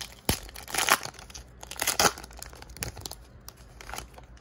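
A Donruss Optic trading card pack is torn open close up, with sharp rips and crinkling foil wrapper in several bursts.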